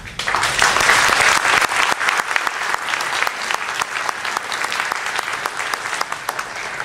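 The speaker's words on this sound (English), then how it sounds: "One more round of applause for David Ellis" Audience applause for speaker David Ellis, a lively burst of many individual claps, close and fairly loud, holding steady with slight swells across the whole stretch.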